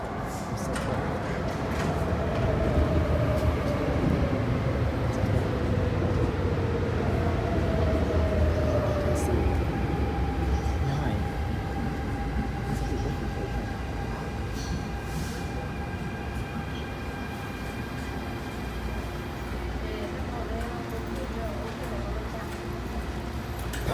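A subway train pulls into Olympic station with steady rumbling wheel noise and faint brake squeals tapering off as it slows, continuous and moderately loud throughout.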